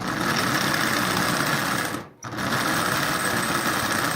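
Marx 400 micro-motor toy locomotive with headlight straining against a string of 20 Marx cars, giving a high, buzzing motor whine that runs steadily, cuts out for a split second, then resumes just as loud and close.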